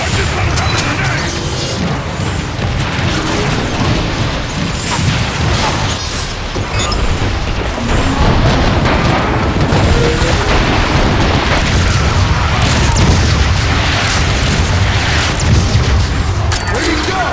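Loud explosive booms and crashing impacts from a grenade blast in the PC game Transformers: Fall Of Cybertron, dense battle noise running throughout with someone talking excitedly over it.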